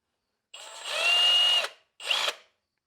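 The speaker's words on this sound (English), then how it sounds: "just so you can see it run with the ultimate output battery" A Kobalt 24V cordless jigsaw running on a high-output battery: one revving burst of about a second with a steady whine, a short pause, then a briefer second burst, close and loud, no talking.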